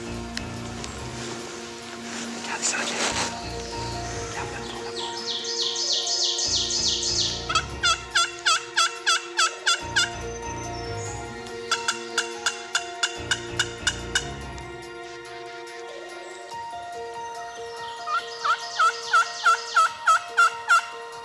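Wild turkey gobbles answering a slate call during a spring turkey hunt in Quebec's Eastern Townships, heard as several repeated rattling bursts at moderate distance, mixed with scratchy slate calling and other bird chirps, with no talking.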